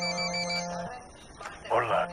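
A phone rings in the shooter game Ghost Recon Wildlands, sounding as a bright electronic ringtone with steady held tones that break off partway, followed by shuffling movement sounds and another short ring burst.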